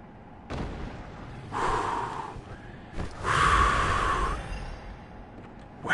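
Heavy, rasping breaths from an unseen creature in the game Bloodborne rise and fall in two or three long drawn pulls, close and ominous against a low ambient hum.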